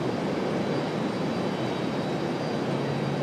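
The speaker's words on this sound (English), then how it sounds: "Speaking of international flights, Aero Mexico coming up." Aeromexico jet airliner on approach to land at Raleigh-Durham airport, a steady broad roar of engine noise held at even loudness throughout, with no voices.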